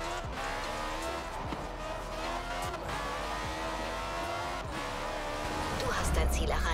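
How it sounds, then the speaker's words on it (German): An all-wheel-drive car in Forza Horizon 4 spins its tires, a continuous engine drone laced with wavering squeal tones that grows slightly louder toward the end, while someone talks over it. "wir haben Allrad und wir haben durchdrehende Reifen"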